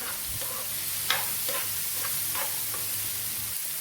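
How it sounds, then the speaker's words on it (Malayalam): Okra frying in a pan with Kashmiri chili powder, stirred with a spoon: a steady close sizzle under a series of soft scraping stir strokes, no talking. "ഇളക്കി കൊടുക്കാം."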